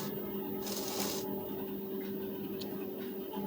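A sewing machine stitches the neck strip of a lined blouse, its motor giving a steady close hum with a brief brighter rattle near the start. No one speaks.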